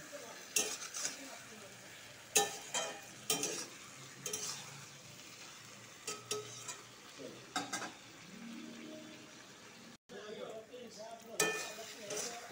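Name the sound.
tomatoes being fried and stirred in a pan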